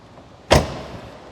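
A single solid thump of a 1990 Corvette ZR1's car door slamming shut, loud and close, with a brief ring-out afterward in a quiet indoor setting.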